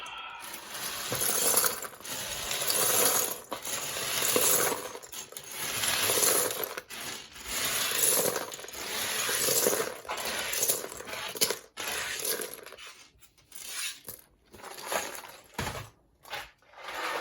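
Plastic LEGO Star Wars minifigures pour and shuffle together as two bags are combined, a dense run of clattering, clinking plastic that rattles steadily before thinning into scattered clicks and brief pauses near the end.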